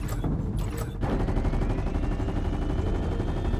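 Rapid fire from a Fortnite gunner pod, a fast, steady stream of shots that starts abruptly and continues loud and close without pause.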